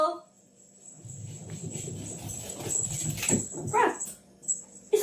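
A dog whimpering and yipping in short, high, strained bursts that grow louder toward the end, over a quiet background.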